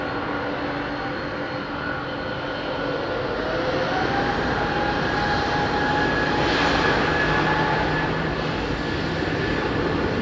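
A jet airliner at London Heathrow rolling up to the line on runway 27R, its engines a loud sustained roar with whining tones that builds slightly and holds steady throughout.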